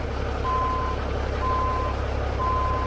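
Reversing beeps from a truck in American Truck Simulator sound three times at an even pace, each a steady tone held for about half a second. A loud, constant low engine idle rumbles underneath.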